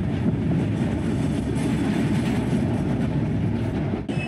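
A passenger train running on its tracks toward Prayagraj, heard from inside as a loud, continuous low rumble with steady rattling and faint clickety-clack, with no talk over it.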